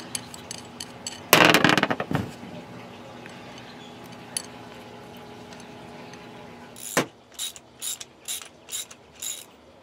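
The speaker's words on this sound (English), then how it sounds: "This is going to be the gear, basically, of the reel. So I'm gonna thread this on backwards." Clicking and ratcheting of a gear being threaded onto a homemade fishing reel: a dense burst of rattling clicks early on, a lone click, then a short run of evenly spaced sharp clicks near the end.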